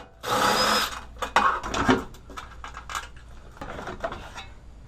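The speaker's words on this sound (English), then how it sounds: "Get these 2 bolts out." An air or power tool whirs briefly in bursts while two bolts come out of a Ford 5.4L engine front cover area, followed by close metallic clinks and rattles of parts being handled.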